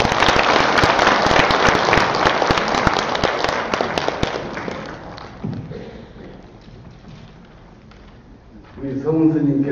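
An audience gives dense, loud applause at the opening ceremony of an international academic conference on Buddhism and the Fourth Industrial Revolution. The clapping gradually thins out and fades, and a voice begins speaking at the end.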